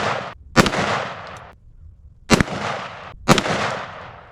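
Smith & Wesson .44 magnum revolver fired outdoors, with three loud, booming shots spaced about a second apart. Each has a sharp crack and a long rolling echo.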